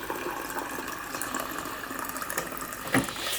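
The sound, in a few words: getting water from a tap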